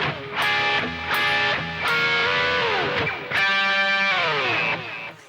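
A distorted electric guitar plays a solo phrase up close: repeated picked double stops, a rising slide, then a fast trilled run and a held bending note that fades, with no talking.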